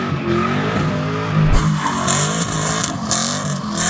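A Chevrolet Camaro SS, running without its turbos after a coolant leak fix and oil change, roars on a test drive with a rising and falling engine note and a brief tire squeal, loud and close.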